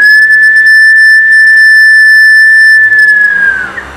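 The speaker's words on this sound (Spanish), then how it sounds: "estos eran los silbadores" A pre-Columbian archaeological whistle from a museum in Huaral, Lima, is blown in one long, loud, piercing steady tone that holds for over three seconds before wavering and dropping off, with no talking.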